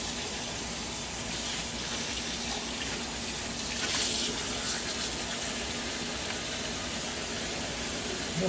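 A tap runs steadily throughout while solar garden lights are rinsed and scrubbed at a sink, a continuous moderate splashing hiss with no talk.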